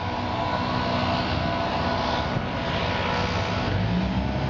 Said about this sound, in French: J'ai un gars là-bas qui lui casse les oreilles avec son souffleur